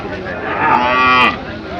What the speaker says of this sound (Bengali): দেখুন দর্শক ছোটো শাল গরু